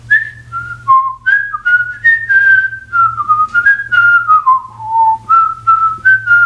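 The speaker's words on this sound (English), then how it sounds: "I don't know what that whistling was" A person whistles a wandering tune, steady and clear with short pauses between phrases, over a low background hum.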